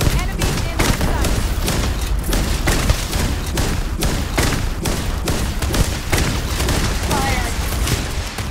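In the video game Starfield, a firing squad sends rapid, continuous gunfire crackling through a dense battle. Shots come in steady bursts with booming undertones, loud and close throughout.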